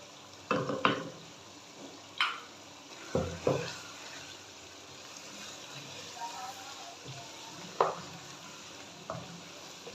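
Spices tipped into chicken handi frying in a pan, a steady low sizzle broken by several sharp scraping stirs and clinks of a spoon against the pot, close and fairly loud.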